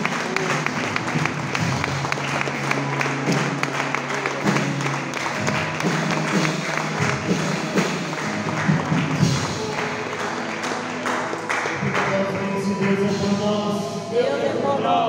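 A church congregation claps steadily through a worship service, the applause blending with live music and voices for the full stretch.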